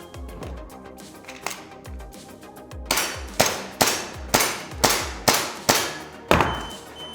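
Rapid airsoft rifle shots ring off steel targets, a string of sharp metallic clangs and thunks, sparse at first then about eight evenly spaced loud hits in quick succession.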